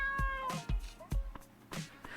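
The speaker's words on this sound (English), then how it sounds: "By the way, this is our kitty cat." A pet cat in the diving and restaurant game Dave the Diver meows several times in short, separate calls, each a clear, fairly close mew with pauses between them.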